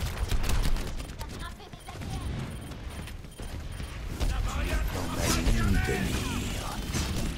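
Gunfire rattles in Overwatch gameplay on Xbox, with dense rapid shots and mechanical clatter mixed with other game effects and music throughout.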